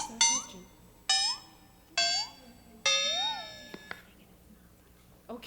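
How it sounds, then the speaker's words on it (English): Game show buzzer: four sharp electronic tones in quick succession, each bright and ringing with a short rising wobble, followed by a quieter one at the end, with no talk over them. "Uh-oh, the buzzer."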